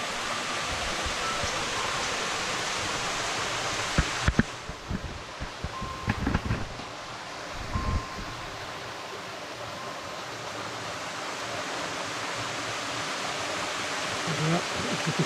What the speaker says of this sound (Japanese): 姥ヶ滝であります。